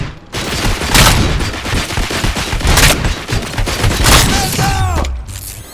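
Sustained loud gunfire in the video game Robocop Rogue City, dense rapid bursts of automatic fire and booming shots layered together almost continuously, with brief voices mixed in.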